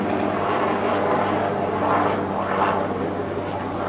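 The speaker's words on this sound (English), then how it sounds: "there's a loud chopper flying overhead here." A loud helicopter flies overhead during summer, its broad droning rotor and engine noise filling the air steadily throughout, swelling slightly near the middle.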